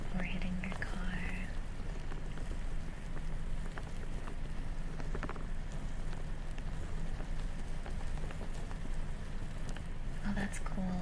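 ASMR rain bags rustled to imitate rain pattering on a tent, a soft, steady dense patter close to the microphone with occasional brighter crinkles and faint voice traces.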